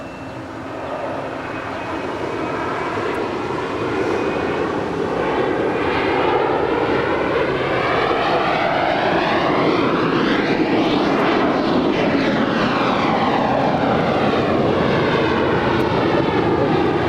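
JetBlue Airways Airbus A321 jet taking off from Los Angeles International Airport, bound for JFK: a loud, steadily building engine roar with a sweeping whine that rises and falls as the aircraft passes close by, with no talking.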